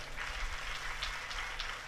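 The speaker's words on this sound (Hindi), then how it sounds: "जोरदार तालियां इसके लिए।" Audience at a religious discourse on cow service breaking into sustained applause, a dense, even wash of many hands clapping at moderate distance with no pauses across the stretch.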